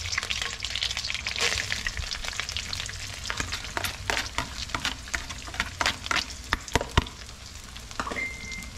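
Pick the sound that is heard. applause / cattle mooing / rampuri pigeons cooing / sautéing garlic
sautéing garlic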